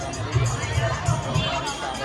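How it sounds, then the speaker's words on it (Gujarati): Dense crowd murmur at the Ramapir temple during a Bij pilgrimage gathering, steady hubbub of many voices with a few louder shouts rising and falling close by. "અને અહીંયા આગળ ભીડ જુઓ તમે."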